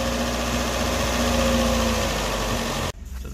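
A Toyota AE101 Corolla GT engine idles cold at slightly raised revs, a steady close hum that cuts off abruptly near the end, leaving a softer rumble.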